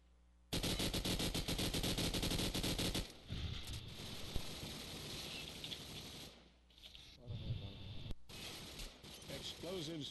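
Call of Duty 4 competitive match with a loud, steady stream of rapid automatic suppressing fire for several seconds, followed by scattered shots and game noise while players talk.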